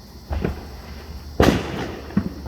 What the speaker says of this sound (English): can hear the fireworks, guys. Let me let you listen to them a little bit.